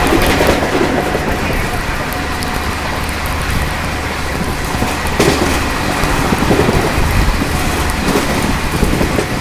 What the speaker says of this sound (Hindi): 3 नंबर पे डिब्रूगढ़ राजधानी आ चुकी है